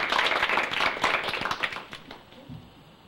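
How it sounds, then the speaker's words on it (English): Bank employees receive a round of applause from an audience indoors. Many hands clap at once, dense and close at first, then thin out and fade over a few seconds. "I think we ought to give all the employees a big round of applause."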